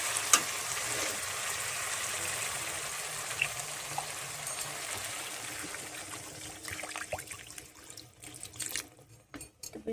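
Potatoes cooking in a pan with added water, a steady bubbling hiss that gradually softens and breaks into sputters toward the end.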